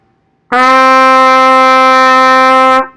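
A single bright trumpet note, D, is held steadily for about two seconds, clear and close, with no other sound around it.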